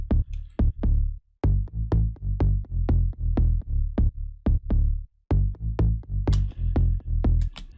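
A simple tech house bass line of short plucked notes in a steady bouncing rhythm, deep and punchy, with brief gaps between phrases and no voices.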